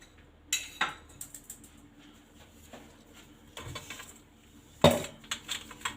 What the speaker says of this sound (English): Just like the lentils, I'll sieve them because we want fine flour.